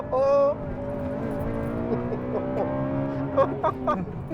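A Honda Civic Type R VTEC engine revs and pulls under acceleration, its rising pitch sweeping upward, with a few sharper bursts near the end.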